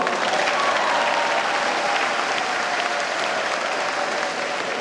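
A Catholic Charismatic Renewal audience breaks into sustained applause, a loud, dense, even roar of many hands clapping that holds steady throughout.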